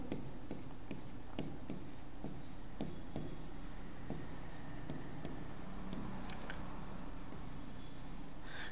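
Writing on a board during a Hindi-language chemistry lesson: faint, repeated short strokes tap and scratch in uneven rhythm over a steady low room hum.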